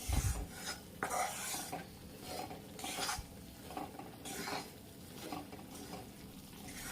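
Edible gum roasting in ghee over a low flame for ladoo, heard as quiet rhythmic scraping and rubbing strokes of a spoon in the pan with a faint sizzle underneath.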